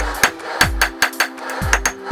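A hammer strikes a railroad spike being forged into a tong tip on an anvil, about eight sharp ringing blows in an uneven rhythm, loud and close with no talk.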